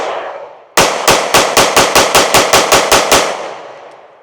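A Taurus GX2 pistol fires a string of about twelve sharp, loud gunshots in quick, even succession, each one followed by a short decaying echo.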